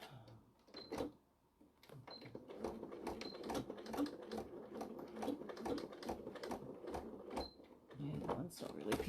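Close, uneven rattling and clacking of a sewing machine stitching a small fabric bag, with short bursts of needle strikes separated by pauses, under faint room noise.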